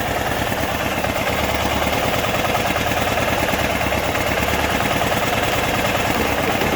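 A Kohler Command Pro small engine idles steadily and close, with a constant even rumble and slight vibration and no talk over it.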